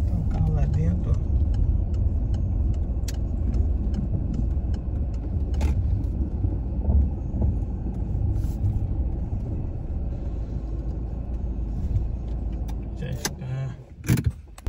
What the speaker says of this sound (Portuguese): Vamos botar ali o carro ali dentro da oficina.